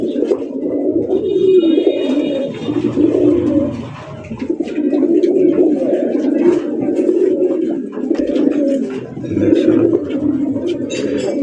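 Rajgolla pigeons coo in a continuous, layered, throaty murmur, several birds overlapping at close range with a steady rhythm and no pauses.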